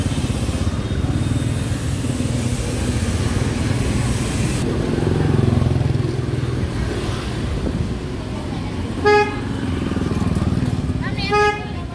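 Busy Hanoi street traffic heard from an open-top tour vehicle, a steady loud roar of motorbike engines and wind buffeting, with two short horn honks toward the end.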